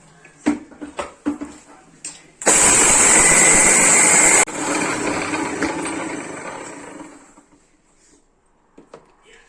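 An electric mixer grinder (mixie) grinds fenugreek seeds for a homemade amla pickle, starting abruptly with a loud, steady whir for about two seconds, then running on at a lower, gradually fading drone until it stops.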